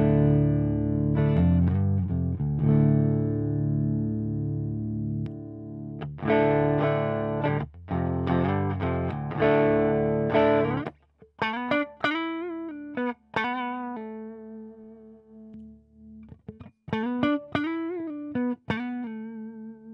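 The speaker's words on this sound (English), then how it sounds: "one of my favorite things to do recently is use the Fortin Grind on particularly warm, clean channels" Electric guitar through a Fortin Grind pedal on a warm clean amp channel: a few thick, driven chords ring out, then single lead notes bend and waver with vibrato, close and fairly loud, no talking.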